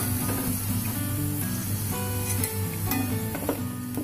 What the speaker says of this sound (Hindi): फ्लेम हम मीडियम कर देंगे और सारे कॉर्न्स को पलट देंगे